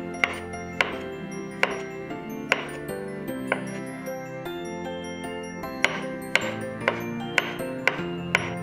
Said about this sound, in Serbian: sada ću iseckati 3 kuvane šargarepe